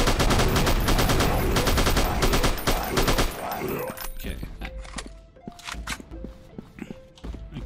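Dense, rapid automatic gunfire rattles loudly in the PC game C.R.E.E.P.S, then thins to sparse, spaced shots over tonal game music and effects.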